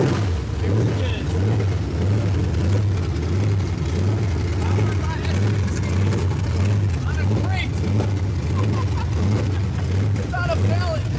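A Ford SVT Lightning truck's newly installed engine idles on its first start with a steady, low rumbling throb close by, while people talk over it.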